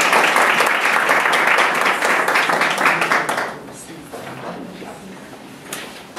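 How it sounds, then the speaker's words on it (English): Loud round of applause from a community action board meeting audience, dense clapping for about three and a half seconds before fading into quieter room noise with a few scattered claps. "So a round of applause for all our..."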